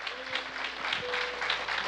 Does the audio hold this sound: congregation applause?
yes